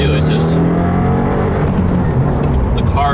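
Tuned 2015 Subaru WRX with a MAP Stage 1 tune pulling away from a stop in first gear, a steady loud engine drone heard from inside the car, with someone talking over it throughout.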